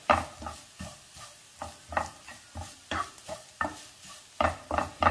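A spoon stirs grated coconut and onion as they dry-roast in a pan over a medium flame. Close scrapes come in an uneven, steady rhythm against a faint crackle, with no talk.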